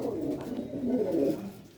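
Pigeons in a Punjabi loft coo continuously up close, a low, soft, rolling murmur that swells slightly in the middle and holds steady throughout.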